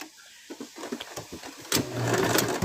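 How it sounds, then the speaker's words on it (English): A sewing machine back stitching a plush toy, with a few short bursts of stitching followed by a louder, steady run of the motor close by, all without speech. "A little bit of back stitching."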